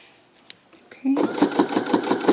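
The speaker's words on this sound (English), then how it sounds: "So it's giving me that nice consistent stitch all the way down." A sewing machine stitches jelly roll fabric strips, starting after a second of quiet and clicks, then running in a rapid, even chatter of needle strokes up close, with a voice talking over it.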